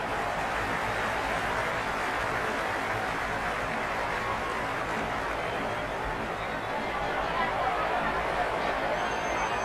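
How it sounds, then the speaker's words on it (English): A cricket stadium crowd at a T20 World Cup match between India and Zimbabwe makes a dense, steady roar of cheering and chatter with no breaks throughout. "It's almost palpable, the excitement emanating from this crowd at the moment."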